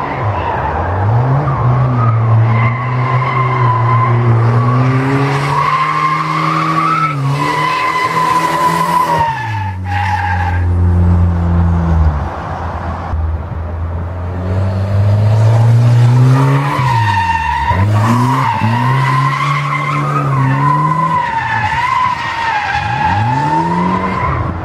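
A Volvo drift car is pushed hard, its engine revving and falling as the tires squeal and skid in long, loud sweeps, with a brief lull midway before the squealing picks up again.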